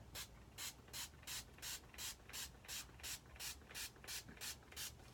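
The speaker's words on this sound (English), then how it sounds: "So you just spray your face. I spray a lot." About a dozen short misting sprays of setting spray onto a face hiss in a steady rhythm, close and soft, with no talking.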